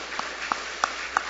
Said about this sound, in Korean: 우리 하나님께 우리 박수를 한번 감사하십시다